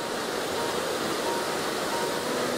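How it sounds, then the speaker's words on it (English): The lower Rydal Beck waterfall gives a steady, broad rush of falling water, unbroken and fairly soft, heard from a short distance with no other sounds. "it provides a window to frame and enjoy the view of the lower Rydal Bet waterfall,"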